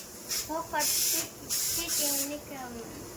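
A pressure cooker boiling corn lets out several loud, hissing bursts of steam in quick succession, with a person talking over and between them.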